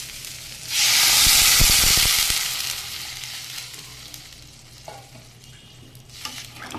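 Water poured into a hot pan of sautéed mixed vegetables bursts into a loud, steamy hiss and sizzle for about two seconds with stirring clatter, then settles into a quieter, steady simmering sizzle.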